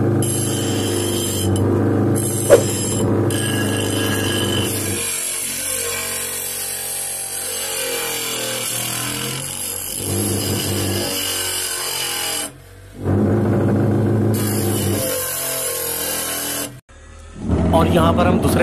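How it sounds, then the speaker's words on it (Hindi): A bench grinder grinding a 12 mm mild steel plate gives a loud, sustained abrasive whine and rasp that cuts out briefly twice, with a voice talking over it. "पहली टेस्टिंग के लिए यहाँ पर हम अपनी ग्राइंडर को ऑन करते हैं। पहले टेस्टिंग में हम आपको दिखाएंगे एक 12 mm का MS का प्लेट दिखाते हैं।"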